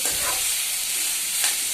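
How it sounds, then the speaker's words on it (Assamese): Pork frying with spices and dry mora leaves in a pan, a continuous close sizzle with a couple of short stirring scrapes, no talk. "এইখিনি এনেকৈ অলপ সময়ৰ কাৰণে মছলাখিনিৰ লগত মিক্স কৰি লৈ ভাজি"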